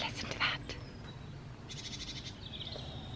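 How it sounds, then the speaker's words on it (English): Birds chirping and singing outdoors in a residential area during a walk with a pram, faint intermittent calls over steady background noise, with someone talking between them. "You hear the birds?"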